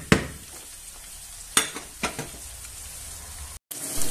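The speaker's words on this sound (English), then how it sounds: "Everything is browning off nicely." Sausages browning in a pan on the hob, a steady soft sizzle of frying with a few sharp utensil knocks and stirring clatters near the start and middle, close and moderately loud.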